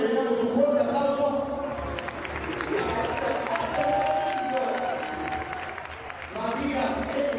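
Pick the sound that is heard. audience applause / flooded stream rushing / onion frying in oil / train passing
audience applause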